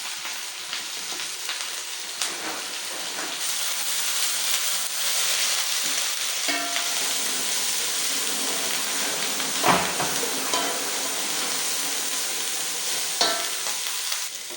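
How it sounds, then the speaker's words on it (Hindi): Okra (bhindi) frying in oil in a pan for a spiced okra and potato dish, with a steady dense sizzle and crackle running throughout, occasional louder pops and utensil scrapes, no talking. "तो जो भिंडी हमारी यहाँ पे फ्राई हो रही है"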